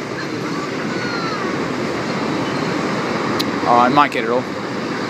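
A short freight train hauled by QR National locomotives rolls past on the rails at Cabramatta station, a steady rumbling drone with a brief squeal near the end, while a person speaks nearby.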